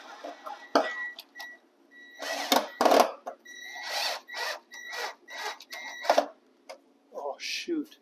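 A self-tapping screw is driven into a custom radiator mount by a powered driver, its whining motor coming in short repeated bursts, with a person talking between and over them.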